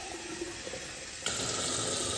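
Kitchen sink tap opens partway through, shifting from a faint room hiss to a loud, steady broadband rush of running water that continues to the end.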